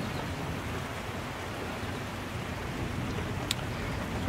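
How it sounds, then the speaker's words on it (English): Rain pours in a broad, steady wash of noise, constant and fairly loud, with a brief faint click near the end and no talking. "Rain."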